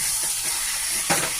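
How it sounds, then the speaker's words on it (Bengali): Chicken fries in a pan with onion and tomato while being stirred, a close, steady sizzle broken by brief scraping bursts of the stirring, with no talk. "চিকেনটাকে হালকা করে নাড়িয়ে নিই।"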